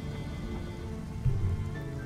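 Steady rain falls in a video game, an even, hissing patter with a slight swell partway through and no voices.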